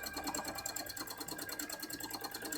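An embroidery machine runs steadily, stitching fill stitches for a cosplay piece with a fast, even needle rhythm that carries through the whole moment, close and clear with no talking.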